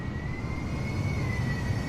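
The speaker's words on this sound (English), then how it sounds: "Any of you guys didn't hear that jet star that just drove behind us?" A Jetstar airliner taxiing past from behind in Microsoft Flight Simulator, giving a steady, fairly loud jet-engine roar with a thin constant whine riding on top, unbroken and without talk.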